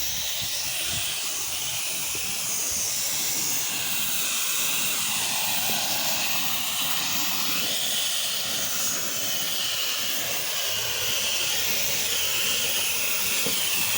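A pressure washer rinses down a pool deck behind a big white house, a steady broadband hiss of spraying water running loud and unbroken throughout, with no talk over it.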